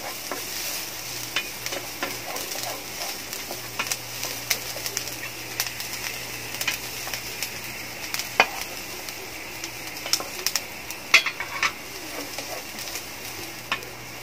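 Garlic being stirred as it sautés in a pan for cabbage with egg, a steady soft sizzle under scattered scraping clicks and knocks of the utensil, with a low constant hum beneath and no voices.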